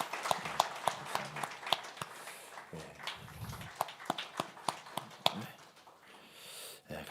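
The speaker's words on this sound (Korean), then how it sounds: "우리 박수로 감사하겠습니다" Sparse, scattered hand claps ring out at a church gathering of a mission and reunification council, sharp separate slaps at an irregular pace rather than a full crowd roar, fading toward the end.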